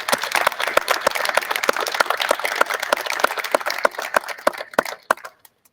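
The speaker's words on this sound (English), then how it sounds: "Would you please just join me in a round of applause for them" An audience claps for town staff at a civic gathering, a dense, steady round of applause lasting several seconds before thinning out to scattered claps and stopping abruptly.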